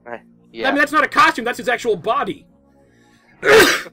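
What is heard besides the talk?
sneeze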